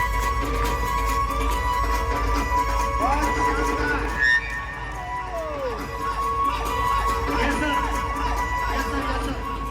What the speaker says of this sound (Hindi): एक बार जोरदार तालियों से सम्मान लेंगे हमारे डांस परफॉर्मेंस को।